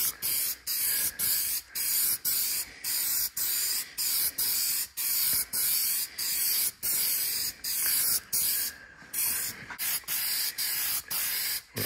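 A spray can laying light coats of black paint on chimney parts hisses in repeated short bursts, each about a second long with brief breaks, loud and close with no speech.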